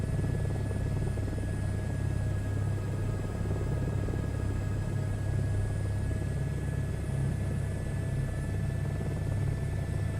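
A helicopter in a VR flight simulator game drones steadily, its deep rotor rumble and engine whine holding constant and close with no pause for the whole stretch.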